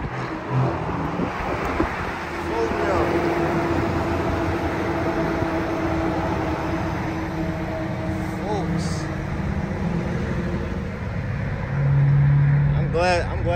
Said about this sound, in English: Somebody's got a fast car.